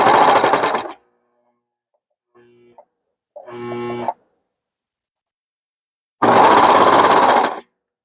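Sewing machine with its trimming blade up, stitching and cutting fabric for a patched hoodie: two loud, close runs of fast rhythmic whirring, each about a second long, separated by silence and brief quieter mechanical clicks.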